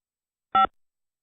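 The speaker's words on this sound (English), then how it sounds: "To leave a callback number, press 5." A single short electronic keypad tone sounds once, clean and isolated against silence.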